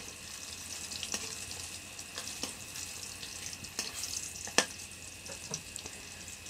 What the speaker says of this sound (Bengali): এখন আমি উল্টিয়ে দিচ্ছি একটা একটা করে, যাতে করে উল্টো পিঠটাও ভালো করে বাদামি কালার করে ফ্রাই হয়।